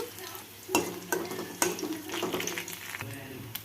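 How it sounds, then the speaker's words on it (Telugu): Green and dried chillies deep frying in oil in a kadai, a crackling sizzle with sharp scraping stirs and clinks of the utensil, close by, with no talk. "వీటి టేస్ట్ మీకు తెలిసేంతవరకు బాగా డీప్ ఫ్రై చేయాలన్నమాట."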